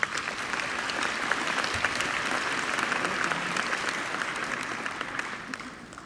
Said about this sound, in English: I would like you to applaud them.